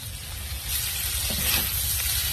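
Chicken, onion and kikiam frying in a pan for bakmi goreng, a steady loud sizzle with a burst of hissing partway through, no voices.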